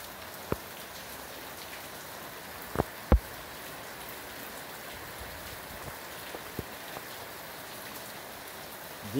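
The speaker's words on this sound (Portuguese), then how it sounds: "Chuva em Abaeté, bairro de São João." Steady rain falls in the São João neighbourhood of Abaeté, a dense even patter on surfaces with a few sharper drips and knocks standing out.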